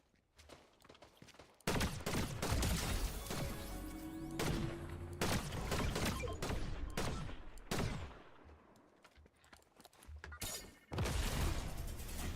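Rapid bursts of gunfire from Fortnite, repeated volleys and single shots crackling loudly across the clip, with brief quieter gaps between the barrages and no talking.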